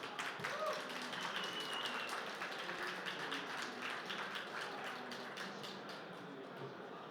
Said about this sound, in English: Another round of applause for Rene.